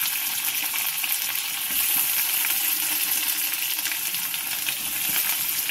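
Potatoes and soaked soybean chunks fry in hot oil, giving a steady bright crackling sizzle with small pops, close and even from start to end.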